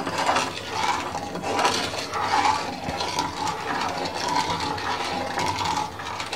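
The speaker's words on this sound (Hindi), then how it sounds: "बराबर हमें चम्मच चलाते रहना चाहिए" A spoon scrapes and clinks steadily against a pot while thick chocolate cake batter is stirred over a very low flame, a continuous close metallic rattle and scrape with no voices.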